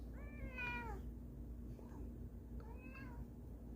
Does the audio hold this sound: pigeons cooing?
no